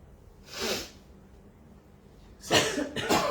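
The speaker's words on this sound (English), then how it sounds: "please forgive the intermittent coughing" Two bursts of harsh coughing separated by a quiet pause, the second a quick double cough, close by.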